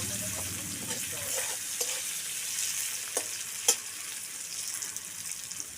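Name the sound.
potatoes frying in a pan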